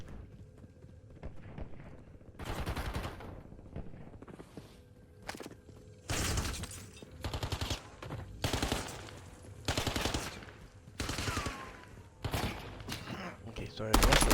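Gunfire in the Warzone battle royale shooter, with repeated bursts of automatic fire and single shots in uneven clusters, loud and close, between quieter gaps carrying faint game noise.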